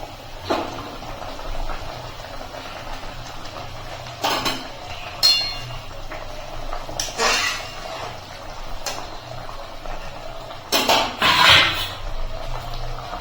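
Pieces of rohu fish slipped into a simmering curry in a pan, with intermittent clinks and clatters of utensils and pan, scattered splashy bursts, and a low bubbling background between them.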